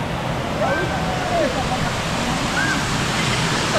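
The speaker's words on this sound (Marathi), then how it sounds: "आता पूर्ण हिरवळ झाले आणि पाण्याचा आवाज पण येतोय" A waterfall near Malvan roars in a loud, unbroken rush of flowing water that fills the whole clip, with a couple of faint whistling calls riding on top.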